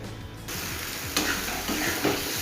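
Mustard masala and vegetables sizzle in a pan while being stirred for a chela fish chorchori. A steady frying hiss with brief scraping stirs runs throughout, close and alone.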